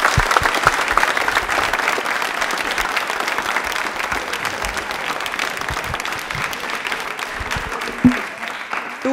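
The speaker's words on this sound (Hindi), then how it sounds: "एक बार तालियां बजा दीजिए" An audience at a televised quiz show applauds with continuous, even clapping, then a brief thump and a short pause near the end.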